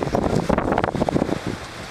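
Strong wind buffets the microphone in loud, gusty roars with rustling during kite flying, steady throughout and easing slightly toward the end.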